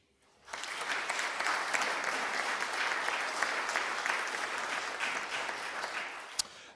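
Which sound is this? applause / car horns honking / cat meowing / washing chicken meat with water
applause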